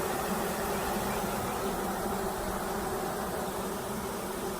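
Honey bees swarm around a hive during installation of a first package and requeening, a dense, continuous buzz that holds steady and close the whole time with no voices.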